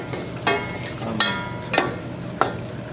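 Onions fry in a pan for rice pilaf under a low steady sizzle, with four sharp scrapes of a spoon stirring them at roughly even intervals.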